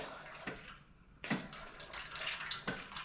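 Hot water dispenses from a Sanremo Cube espresso machine as a faint, uneven trickle and splash with a few soft bursts of flow and no talk.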